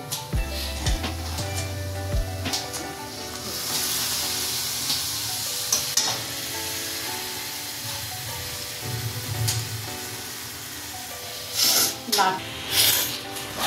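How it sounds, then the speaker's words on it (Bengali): Tomato paste stirred into spices frying in oil for a vegetable curry, a moderate sizzle with scraping spoon strokes and a few louder hissing bursts near the end, with a voice speaking at times. "পেস্টটা দিয়ে এরকম করে নাড়তে থাকবো।"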